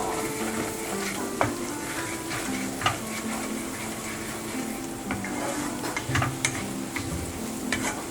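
Holy basil and pork are stir-fried with chili in a wok, a dense close sizzle under frequent spatula scrapes and knocks against the metal, with no voices.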